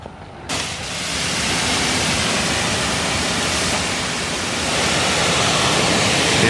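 Water spraying from a 100-foot garden hose while washing a dirty car, a strong steady hiss that kicks in abruptly after a brief quieter moment and holds loud and close.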